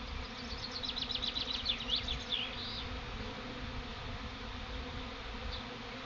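A honey bee swarm arriving at a Claerr hive outdoors: a dense, steady buzz of many bees, with brief higher whines of individual insects passing close in the first seconds before the hum settles.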